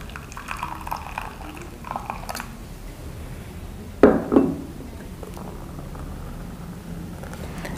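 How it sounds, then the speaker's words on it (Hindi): Water is poured into a glass of bitter gourd (karela) juice in a short splash lasting about half a second midway through, following quieter faint kitchen sounds. "ये मैंने पानी मिला दिया है"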